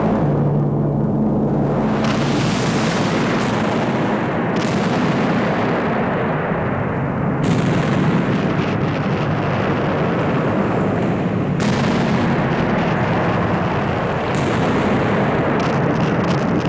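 Explosions ring out in the climax of the 1976 horror film Land of the Minotaur: several heavy booming blasts at irregular intervals, each followed by a long roaring decay, loud and with no talk.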